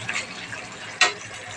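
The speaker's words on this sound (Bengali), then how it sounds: "এখানে আমি একটু জল অ্যাড করলাম, নাহলে চিকেনটা নিচে ধরে যাচ্ছে" A small splash of water poured into chicken cooking in a pan for chicken kosha: one brief, bright pour and hiss about a second in, over low kitchen background.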